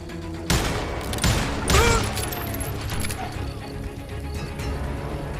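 Rapid gunfire bursts in a game, with fast reloading, crack out in quick succession over a busy, noisy background, loud and close, with excited voices talking over it.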